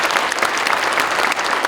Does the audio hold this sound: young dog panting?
no